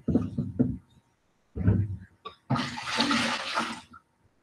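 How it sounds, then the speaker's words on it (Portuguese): Leftover water from a calorimeter in a physics lab experiment on specific heat is poured out and discarded, making a splashing gush of just over a second that follows a few brief spoken words. "Descartar essa água."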